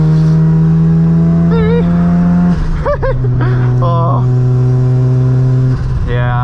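Mazda RX7 rotary engine revving hard on an uphill touge run, loud and close from inside the car, the pitch climbing and dropping through gear changes, with a short exclamation from the driver.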